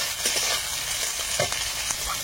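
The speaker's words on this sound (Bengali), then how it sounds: "এবারে এর মধ্যে দেবো পেঁয়াজ কুচি। পেঁয়াজটা হালকা ভেজে" Chopped onion frying in a pan, giving a dense, continuous hiss and sizzle with faint stirring scrapes, close and steady throughout.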